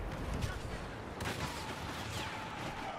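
Explosive-shot blaster fire in Star Wars Battlefront on a desert Tatooine map makes a dense, continuous barrage of muffled bursts and crackling shots, with no clear gaps.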